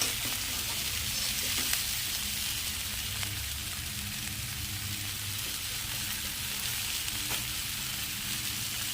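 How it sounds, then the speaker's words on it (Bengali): Fried curry sizzles steadily in the pan as warm water goes in, a dense hissing crackle with faint occasional scrapes, fairly even throughout and no voices. "এখন জলটা ঢেলে দেব।"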